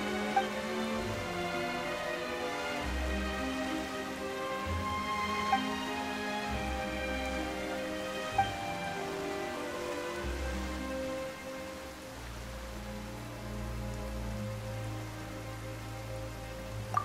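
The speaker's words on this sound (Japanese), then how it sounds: "なんで急に雨が？" Steady rain pours down in a video game scene, a dense continuous hiss of drops on surfaces with deep low rumbling layers beneath and a few sharp isolated ticks, with no talking.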